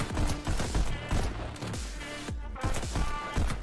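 Rapid pistol gunshots in the VR rhythm shooter Pistol Whip, fired in quick repeated bursts over a pulsing music track, loud and close with sharp attacks throughout.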